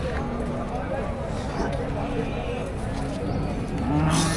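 Dairy cattle and bulls at the crowded Melapalayam cattle market low and moo amid steady market bustle, with people talking nearby throughout.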